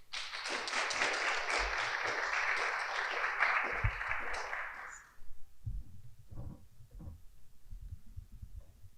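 Audience applause welcoming a lecturer back to the podium at an academic lecture, a dense burst of clapping for about five seconds that cuts off, followed by scattered thumps and quiet room noise.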